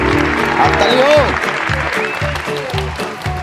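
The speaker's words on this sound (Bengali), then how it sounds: "হাততালি হোক।" A quiz-show audience claps after a correct answer on the salt-law question, with continuous close applause carried under a loud sustained musical or vocal tone that sweeps and fades, and rhythmic thumps.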